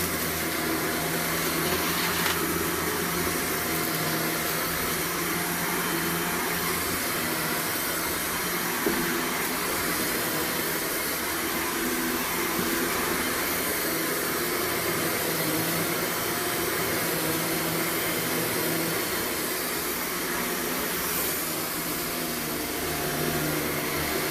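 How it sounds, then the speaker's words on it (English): A vacuum cleaner runs steadily in a carpeted living room, a loud, unbroken motor whine and airflow roar that holds at an even level throughout with no pauses. "Vacuum all the living room because I was trying to keep the cord out of my way."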